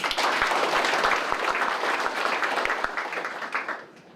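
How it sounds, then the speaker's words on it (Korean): A hall audience applauds city officials, including the mayor and council chair, at a Gwangmyeong Il-dong community gathering: dense, sustained clapping from many hands that holds steady, then thins and fades toward the end. "모두에게 큰 박수 한번 보내주셔서 대단히 고맙습니다"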